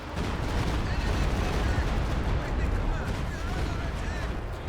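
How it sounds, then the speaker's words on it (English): A rocket artillery barrage in the Company of Heroes 2 strategy game, a dense, continuous rumble of explosions and gunfire filling the battlefield, heard under a commentator's talk. "Looks like all the rockets are just falling too short here."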